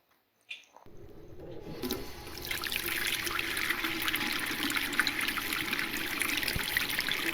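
Tap water runs steadily as hands and face are washed, a continuous splashing trickle that starts after a brief quiet moment and holds close and fairly loud.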